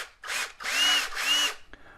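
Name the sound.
drilling small hole in model tank with 1/16 inch bit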